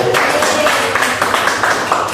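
A classroom of primary school children claps for a classmate named Benny, with a steady, fairly loud patter of many hands that continues without a break.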